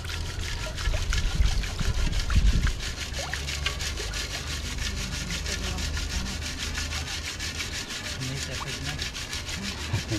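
Gravel and sand shaken and swirled in a gold pan at a mining centre in Cromwell, a continuous gritty rasping slosh, close and steady, with a few louder scrapes early on.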